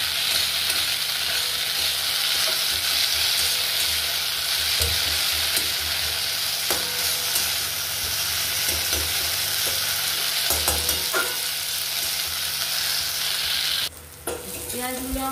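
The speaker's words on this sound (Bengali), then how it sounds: "পেঁয়াজগুলো আমার লাল লাল ভাজা হয়ে গেছে।" Onions frying in a pan for a chicken curry, a steady broadband sizzle with occasional stirring scrapes, close and continuous before a brief break near the end.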